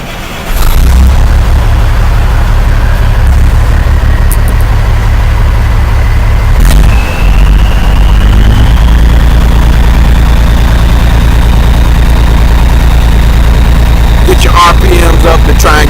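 An old Peterbilt truck engine cranks and catches, then settles into a loud, steady low idle close by, with a rising whine partway through and a few clanks near the end.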